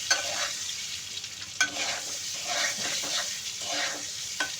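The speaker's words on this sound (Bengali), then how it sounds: "ডিমটা একটু ভেজে নিই" Egg fries in hot oil with a soft sizzle while a spatula stirs and scrapes the pan in irregular strokes and sharp clicks, close by with no talking.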